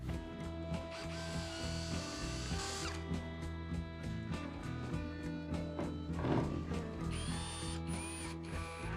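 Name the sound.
drilling into wood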